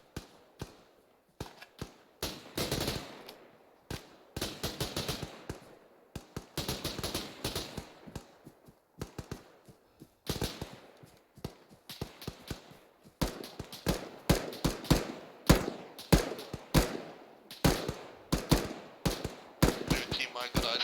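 Rapid bursts of gunfire crack through a team training exercise, sharp repeated shots in uneven clusters, some close and loud, others further off, with people talking over the firing.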